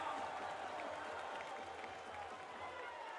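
Crowd at a CS:GO Major match between Apeks and Vitality gives a steady, distant roar and applause behind a caster's excited commentary.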